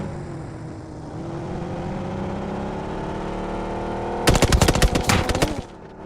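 A burst of automatic gunfire in the battle royale video game PUBG cuts in after a steady vehicle-like drone, a loud rapid string of shots lasting about a second and a half.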